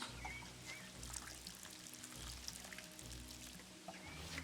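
A watering can pours water onto roses in the game Len's Island, a soft continuous splashing trickle over a low ambient hum, faint and steady.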